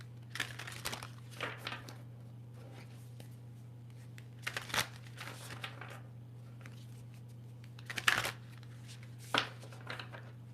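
Quiet, intermittent riffling and shuffling of an oracle card deck in short bursts, close and soft, with pauses between over a low steady hum.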